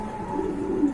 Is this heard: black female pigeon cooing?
yes